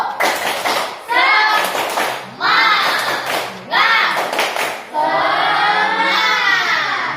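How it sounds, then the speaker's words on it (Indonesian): Pupils in a classroom doing the tepuk semangat routine, bursts of rhythmic group clapping alternating with children chanting together in loud, close unison. "biar lebih semangat lagi, tepuk semangat 1"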